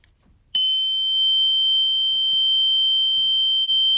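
A loud electronic horn from a Snap Circuits toy kit blares a steady, piercing high tone after a brief quiet moment, holding continuously for several seconds.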